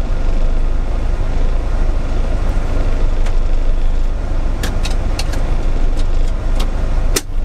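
A Lotus Esprit Turbo on the move gives a steady, loud engine and road drone from inside the cramped cabin, with a few sharp clicks and rattles near the end.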